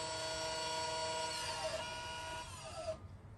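A Honda electronic parking brake motor engages at the rear brakes with a steady mechanical whine that shifts slightly in pitch, winds down and stops after about three seconds, close and fairly quiet.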